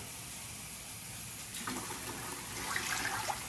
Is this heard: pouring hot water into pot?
yes